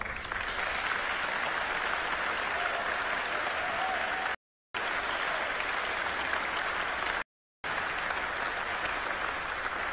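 Hearty audience applause at a holiday pipe organ concert, a broad steady roar of many hands clapping, briefly cut by two short gaps of silence.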